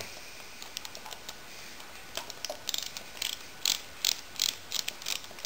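A ratchet clicks in quick bursts as a 6mm bolt is run in on a Yamaha V-max engine during assembly, starting with faint scattered ticks and building to louder, closer runs of rapid clicking toward the end, with no talk.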